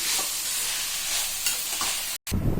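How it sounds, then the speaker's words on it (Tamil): Cooled sautéed onion is stirred into idli batter for kuzhi paniyaram, a wet, dense swishing and scraping that runs continuously, breaks off briefly near the end, then resumes. "இப்போ ஆறின வெங்காயத்தை எடுத்து மாவில் போட்டு கிளறணும்."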